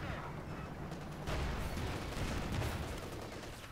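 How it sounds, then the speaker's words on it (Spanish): A T-34 tank's cannon fires in Company of Heroes 2, a booming blast cutting through rumbling battle noise, with distant gunfire rolling on under it. "¿Le puede pegar un cañonazo?"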